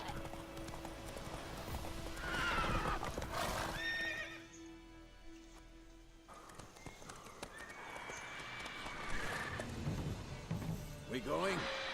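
Hooves clip-clop rhythmically as a horse runs in The Witcher 3, with a couple of whinnies over the galloping and a voice talking at times.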